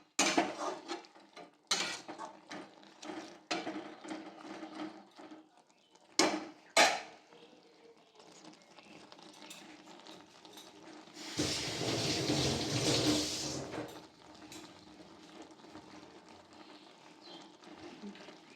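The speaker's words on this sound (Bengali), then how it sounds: "এবার নেড়ে দেবো।" A utensil stirs mourola fish and brinjal in a pan with scattered close scrapes and clinks, then a longer stretch of louder sizzling and scraping midway before it settles to quieter clatter.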